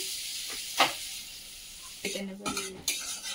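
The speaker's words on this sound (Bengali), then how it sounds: "এই যে কড়া তো গরম হয়ে গেছে, এর মধ্যে যে বাটার দিয়ে দিচ্ছি" Butter melts and sizzles in a hot kadai for white sauce pasta, with a continuous frying hiss up close and several clinks and scrapes of a utensil against the pan.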